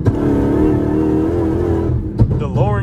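A Dodge Hellcat's engine revs in track mode, a steady loud rumbling drone for about two seconds, then a brief blip before a voice talks over the idle.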